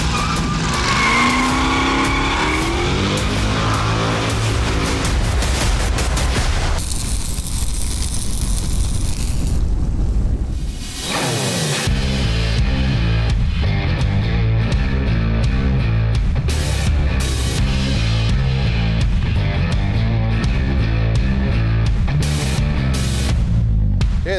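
A classic Chevrolet Chevelle is driven hard, its engine roaring loudly while the tires squeal and skid through long stretches. There is a brief lull in the middle before the engine and tire noise return at full volume.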